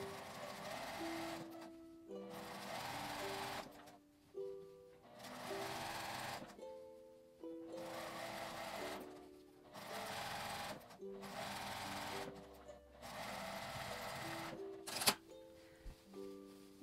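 A domestic sewing machine stitches thin fabric for an unlined drawstring pouch in repeated bursts of rapid mechanical whirring, each lasting about a second or two, separated by short pauses, close and clear.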